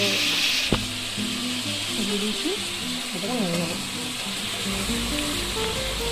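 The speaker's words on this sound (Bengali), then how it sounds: "আমি প্রায় দশ মিনিট মতন মিডিয়াম ফ্লেমে চিকেনটা ভেজে নিলাম" Chicken pieces frying with onions in a pan over a medium gas flame, giving a steady close sizzle throughout with faint utensil stirring and clinks, and no one talking.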